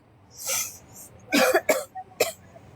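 A short series of coughs, close and sharp, with a pause after the first one and then several quick bursts.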